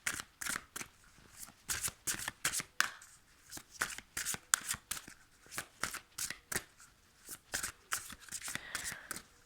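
Oracle cards shuffled by hand for a card reading, a steady run of quick riffling bursts, close and fairly quiet, with no talking.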